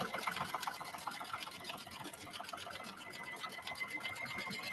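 A sewing machine top stitches near the corner of a sling bag pocket, giving a fast, steady, close mechanical whir and rapid needle clatter throughout. A voice talks faintly beneath it.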